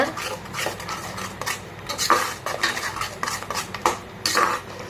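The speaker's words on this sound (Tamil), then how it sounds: "ரசப்பொடி சாம்பார் பொடி எல்லாம் போட்டு நல்லா மிக்ஸ் பண்ணி விடுங்க" A spoon scrapes and clinks repeatedly against a metal pot, stirring rasam powder and sambar powder into a one-pot rice rasam in an uneven rhythm, with a faint sizzle underneath.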